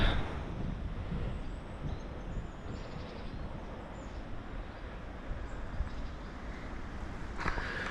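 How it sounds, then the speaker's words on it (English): Strong wind buffets the microphone on an exposed coastal walk from Brixham to Berry Head, a loud continuous low roar and rumble with no voices. "Obviously with this wind it's actually not too bad at the moment"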